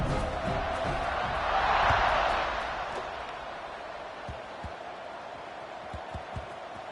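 A big football stadium crowd before kickoff swells into a broad, distant roar that peaks and then settles back to a lower murmur, with a few dull thumps near the end.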